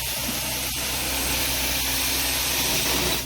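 Carpet cleaning machine rinsing a dirty carpet, a steady loud broadband whooshing roar of suction and spray that holds constant throughout with no talk.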